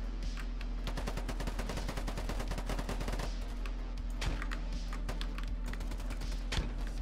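Rapid gunfire from a recoilless gun in the Polygon video game, a dense stream of quick shots running continuously at steady loudness, with a few heavier reports standing out.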